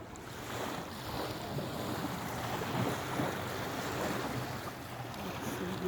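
Continuous wash of waves and surf at the Dead Sea shore with wind buffeting the microphone, a steady broad rush that swells slightly without pause.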